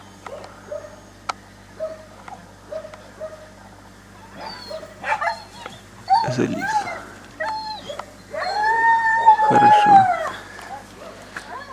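A dog in a village yard whines and yelps while begging for food, with thin repeated whimpers building into louder drawn-out cries, as a person talks nearby.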